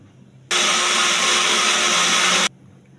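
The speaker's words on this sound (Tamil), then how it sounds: "இப்போ இதை வந்து பிளெண்டர் பண்ணிட்டு வந்துடுவோம்" A blender purees mango with chilled boiled milk, sugar and honey, a loud, even roar that switches on suddenly, runs for about two seconds and stops sharply, with no voices.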